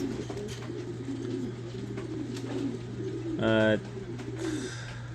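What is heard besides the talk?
pigeons cooing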